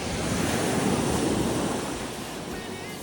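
Ocean surf washes steadily onto the beach of Sarangbaung Island off northern Nias, a loud, continuous roar mixed with gusty wind noise on the microphone.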